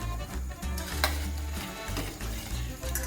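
Gram flour roasting in ghee in a pan for magas sweet is stirred with a steady scraping, sizzling hiss, continuous and close, with no talk.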